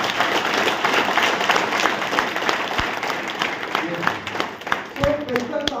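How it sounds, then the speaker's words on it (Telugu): A room full of people at a business opportunity seminar clap together, dense and fairly close, with a voice breaking in near the end as the clapping thins out. "క్లాప్స్ కొట్టడానికి రెడీ ఉన్నారా లేదా?"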